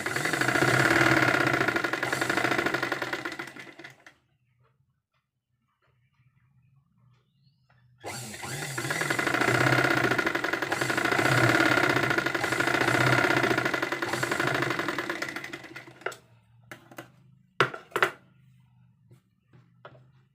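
A sewing machine stitches a fold of shiny cloth in two sustained runs of steady mechanical whirring, separated by a few seconds of near silence, ending with a couple of short sharp clicks.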